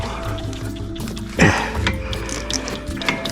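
A 1/4 inch drive ratchet clicks steadily at close range while turning a 12 millimeter bolt during fuel injection work on a Kubota B7800 tractor, with a sharp clank partway through.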